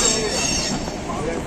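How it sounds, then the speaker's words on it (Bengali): Howrah-Puri Shatabdi Express passing close by, a steady loud rumble of wheels and carriages with faint metallic squeal running through the whole moment. "পাশ দিয়ে ওই যে ট্রেনটা যাচ্ছে ওটা হচ্ছে হাওড়া-পুরী শতাব্দী এক্সপ্রেস"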